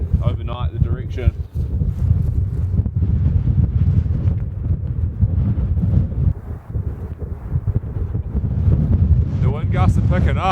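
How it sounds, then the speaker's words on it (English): Strong wind gusts roar steadily against a tent during a mountain rainstorm, a loud, continuous buffeting rush that never lets up. "The wind gusts are picking up."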